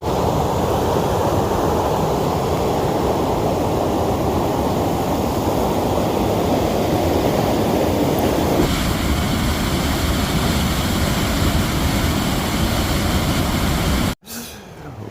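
Waterfalls near a viewpoint at the northern end of Loch Lomond, Scotland, roar as a loud, steady broadband rush of water with some wind buffeting the microphone, continuous for the whole stretch before cutting off abruptly near the end.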